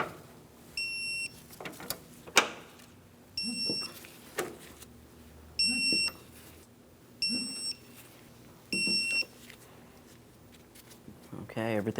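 An electronic torque wrench beeps in five evenly spaced bursts of short high tones while 18mm control-arm bolts on a 2003-2007 Cadillac CTS are tightened, with ratchet clicks and handling noise between bursts.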